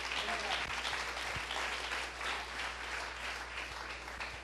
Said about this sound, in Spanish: ¿Cuántos aplauden el nombre del Eterno?